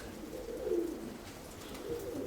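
Soft, low cooing from a young pigeon close by, a gentle murmuring call repeated over a quiet background.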